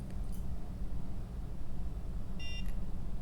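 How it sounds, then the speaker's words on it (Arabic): A short electronic beep from a NuFACE facial toning device sounds once near the end, over steady low background rumble. "هنسمع اول بيب"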